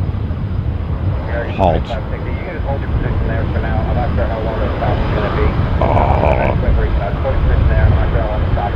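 A jet airliner departing Tampa airport roars steadily and loudly throughout, a broad sustained rumble that swells slightly toward the end, while people talk nearby.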